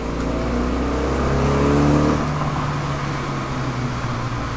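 Engine of a 2019 BMW S1000RR motorcycle with a turbo, revving hard under acceleration in a hill-climb race, a loud close whine that rises, eases and holds steady without talk.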